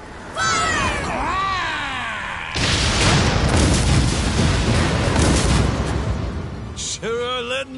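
Ship cannons in Like a Dragon: Pirate Yakuza fire a loud, sustained volley of booms, with shouting voices just before and after.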